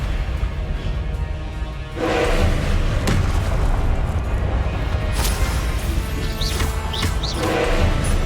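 Spell blasts and impacts in the Hogwarts Legacy video game, a dense run of booming thuds and crashing hits over a steady loud rumble, with sharp bright cracks and a few swooping whooshes near the end.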